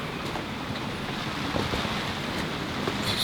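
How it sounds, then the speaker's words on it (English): Gale-force gusts of around 30 knots buffet a sailboat standing out of the water on the hard, making a steady, loud rushing roar with surging swells and faint rattles, with no voices. "It's the boat wobbles, vibrates and wobbles as we get those gusts."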